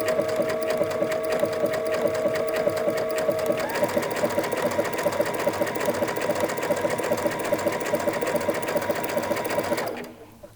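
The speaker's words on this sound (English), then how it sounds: "Lower your presser foot and begin stitching." A sewing machine with a G presser foot runs steadily, sewing an overcast stitch along a fabric edge. The close, even whirring rattle carries on at one pace for about ten seconds, then stops.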